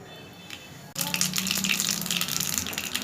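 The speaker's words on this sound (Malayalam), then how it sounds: "അതിനായിട്ട് എണ്ണ ഒഴിച്ചു കൊടുക്കുക. വെളിച്ചെണ്ണ എണ്ണ ഒഴിക്കണം. കടുകിടാം," Mustard seeds crackle in hot coconut oil, tempering a Kerala nellikka arachukalakki. A quiet stretch breaks into a sudden, loud, dense hissing crackle that carries on steadily to the end, with no talking.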